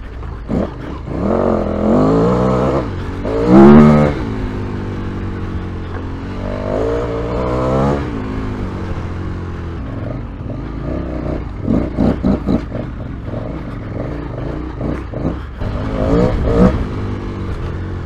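KTM 1290 Super Adventure S motorcycle on a hot lap at a festival track, its engine roaring loud and close with repeated rising revs and gear changes, then rapid throttle blips and bursts toward the end.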